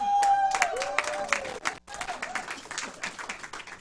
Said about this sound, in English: Let's bring them all up with a round of applause